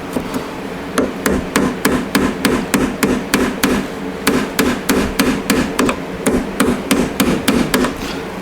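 Steady, rapid hammer taps on a rusty, stuck MGA 1600 roadster heater box, an even metallic knocking repeated throughout, close and loud with no speech.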